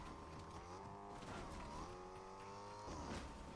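Car engine in a video game, apparently a battle-royale match, droning steadily at close range with a revving, shifting pitch throughout and no voice over it.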